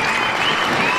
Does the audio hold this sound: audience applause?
yes